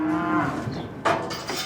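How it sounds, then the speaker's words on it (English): Beef cattle moo at a large international livestock crossing on the Mexico–U.S. border, a long low bellow in the first half followed by a brighter, louder bawl near the end, with no speech. "cowboys herd hundreds of head of beef cattle a day across the border from Mexico to the U.S."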